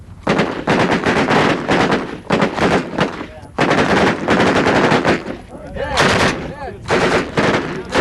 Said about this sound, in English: Everybody stands on the firing line and pulls the trigger.